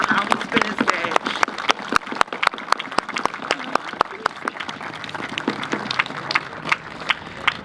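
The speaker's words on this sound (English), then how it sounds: "I ask that you join me in a round of applause" Applause from mourners at a memorial service, sparse, distinct hand claps ringing out at an uneven pace with some murmuring voices underneath, fairly close and clear.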